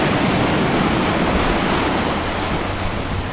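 Ocean waves roll in on the Copper Coast in Ireland, a loud, continuous rushing surf close by with no voices.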